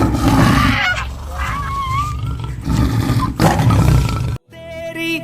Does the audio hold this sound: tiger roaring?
yes